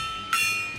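A gong is struck once to mark the end of the 2021 NASCAR Cup Series season, giving a sudden bright hit whose metallic ring holds steady and slowly fades.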